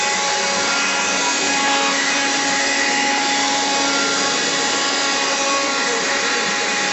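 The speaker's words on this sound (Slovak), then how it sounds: "No vysávaj pekne." A vacuum cleaner runs loud and close with an unbroken, steady whine and roar that holds at one level throughout, without any voices.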